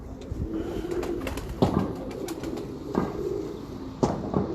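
Pigeons kept by a quail-and-pigeon fancier coo in repeated low, throaty calls close by, with a few sharper knocks and faint flutters under a steady background hiss.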